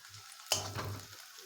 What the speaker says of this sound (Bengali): এই যে আলু পেঁয়াজ ভাজা হচ্ছে এখন।